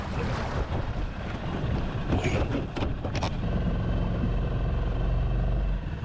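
A small 6 horsepower outboard motor drives a boat at Lucky Bay, Kalbarri, giving a steady close engine drone under heavy wind buffeting on the microphone, with brief splashy bursts midway.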